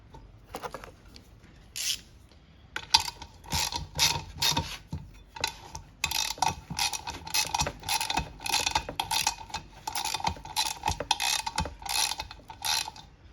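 Socket ratchet tightening a nut while a lawn mower is serviced: rapid, close clicking strokes in irregular bursts that continue steadily throughout.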